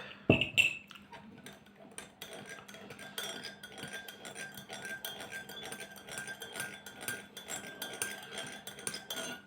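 A spoon clinks and scrapes steadily against the inside of a cup, stirring sugar into black tea with light repeated tinkles after an initial knock.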